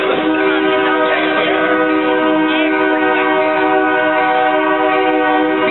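A train rolls past close by, its horn blaring in sustained, steady harmonic blasts that fill the whole stretch, loud and continuous, at a general assembly gathering in Cedar Rapids, Iowa.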